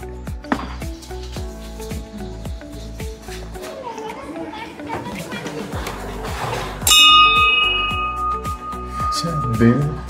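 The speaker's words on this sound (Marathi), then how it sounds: "तुम्हाला काय वाटलं दरवाजा उघडल्याबरोबर बेल वाजते?" A temple bell rings out with sustained metallic tones amid chatter and children's voices nearby, the ringing growing louder toward the end.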